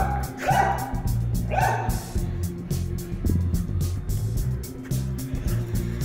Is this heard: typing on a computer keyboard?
no